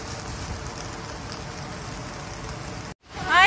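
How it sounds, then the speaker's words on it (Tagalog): Heavy rain pouring outdoors during a hike in bad weather, a steady broadband hiss that cuts out abruptly near the end before returning loudly. "Ayan ang lakas ng ulan."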